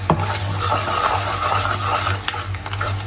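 Edible gum puffing and sizzling in plenty of ghee in a pan while a spoon stirs it, a steady frying hiss with occasional scraping clinks, close and alone.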